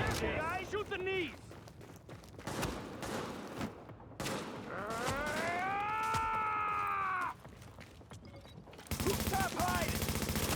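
Video game gunfire crackles in bursts and sustained fusillades through a hectic firefight, mixed with voices and other game effects, loud and dense throughout.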